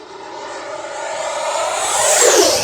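RC Avanti 90mm electric ducted-fan jet on 6S lipo batteries at full throttle for takeoff in the FMS simulator, a loud, steadily rising turbine-like whine and rushing whoosh that swells and sweeps upward in pitch.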